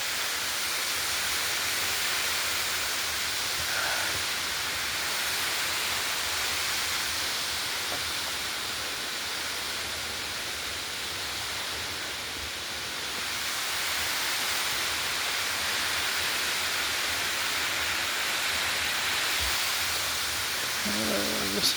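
Steady broadband rush of a waterfall on a hillside trail, a constant loud wash of falling water filling the whole stretch without breaks.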